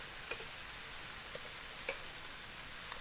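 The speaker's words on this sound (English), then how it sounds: "And garlic doesn't need to saute very long." Minced garlic sautéing in a pan makes a faint, steady sizzle with a few soft ticks and pops scattered through it.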